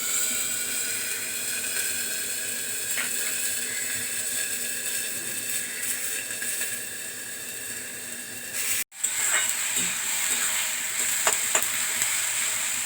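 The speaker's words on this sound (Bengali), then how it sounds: "একটু ভাজা ভাজা হতে দেবো পেঁয়াজটাকে।" Onion paste fries in a pan for masala chickpeas. A steady, close hiss of sizzling oil runs throughout, with a brief cut near the end followed by soft stirring clinks.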